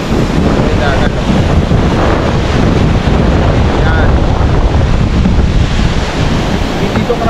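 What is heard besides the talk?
sea waves on a white sand beach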